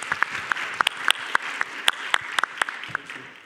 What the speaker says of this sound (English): So great applause for the speakers.